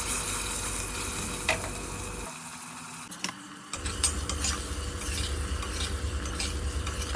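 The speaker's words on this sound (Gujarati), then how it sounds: "આ રીતે તેને ચમચા વડે ચલાવતા રહેવાનું છે અને 2 મિનિટ સુધી સાતળવાનું છે" A spoon scrapes and stirs tomatoes with eggplant and potatoes sautéing in a pan over a low flame, giving a steady close sizzle with a brief lull midway before the stirring resumes.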